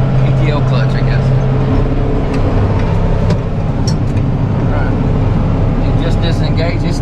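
Case IH 75C tractor with its PTO still spinning near full speed after being disengaged, a loud, steady mechanical engine drone running throughout while people talk over it.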